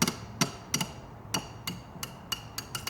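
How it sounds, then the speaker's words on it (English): Sharp mechanical clicks in an irregular series, about ten over a few seconds, close and fairly crisp against a quiet background, from a 72-tooth ratchet wrench being turned. "ratchets that have a louder click are usually a lower tooth count"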